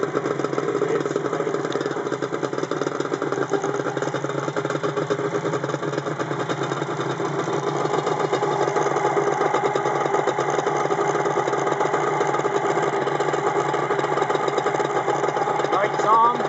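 A motorcycle engine under repair for its voltage rectifier and regulator runs at a steady idle, a loud continuous mid-pitched drone that holds even for the whole stretch without revving.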